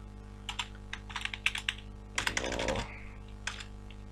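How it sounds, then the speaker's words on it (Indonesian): Computer keyboard typing in a quiet room while a clock time zone is set in an operating system: scattered bursts of keystrokes with a denser flurry midway, fairly close and soft. "harus benar ya kalau ngetik Asia Jakarta"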